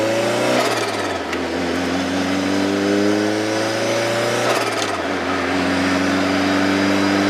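A cold car engine revs up steadily while overtaking a tractor on a road in Sweden, its pitch climbing, dropping briefly around a gear shift, then rising again; loud and close, with no talking.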